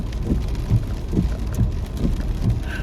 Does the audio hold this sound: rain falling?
yes